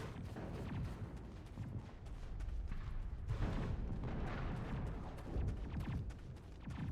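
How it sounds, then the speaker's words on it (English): Rapid bursts of Geth sci-fi gunfire from Mass Effect crackle continuously over a dense, rumbling battle din, with booming impacts mixed in throughout. "And that is a Geth gunfire that you hear."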